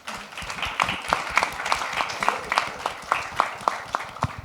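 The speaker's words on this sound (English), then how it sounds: "maybe we can just have a round of applause for everyone" A small audience claps after a transport and logistics industry conference panel, a modest scatter of individual handclaps with distinct sharp strikes, moderately close and sustained without speech over it.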